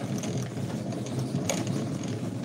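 Yarn winder rewinding uneven thread from a skein, a steady close mechanical whirring and ratcheting that runs continuously without speech.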